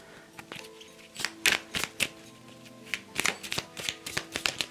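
Oracle cards being shuffled by hand for a reading, a close run of crisp riffling taps and flutters in irregular bursts, growing busier toward the end, with no voices.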